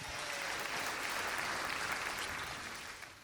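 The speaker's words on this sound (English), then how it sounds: "Give him another round of applause for that." Steady applause from a live audience during a stage show, dense and sustained clapping that fades slightly at the end, with no talking over it.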